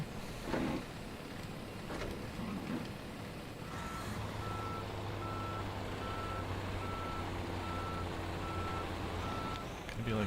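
A truck in the video game Snowrunner sounds evenly spaced reversing beeps over a low engine rumble, about a dozen steady pulses, with some clunks and engine noise before the beeping starts.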